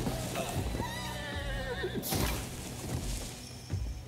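Horse whinny in Assassin's Creed Valhalla, a wavering neigh over dense game noise, then a sharp crash midway, with the busy mix continuing after.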